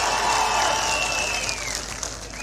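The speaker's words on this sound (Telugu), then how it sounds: "గట్టిగా చప్పట్లు చెప్పండి సాధ్యమని" Crowd at a political rally applauding, a dense, steady wash of clapping that fills the whole moment at even strength, with no clear voices rising above it.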